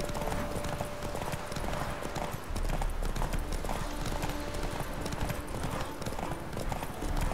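Roach the horse galloping in the video game The Witcher 3, a rapid, rhythmic clip-clop of hooves running steadily and close throughout.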